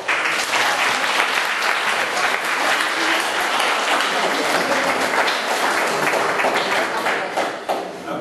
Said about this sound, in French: Alors je crois qu'on peut l'applaudir parce que c'est vraiment un grand